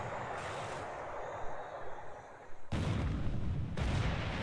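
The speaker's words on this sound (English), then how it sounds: "4-inch gun hit. 6-inch gun hit on the Ashigara." Naval gun hits in the War in the Pacific strategy game, heavy booming rumble with sharp low-frequency impacts, the loudest blast arriving near the end.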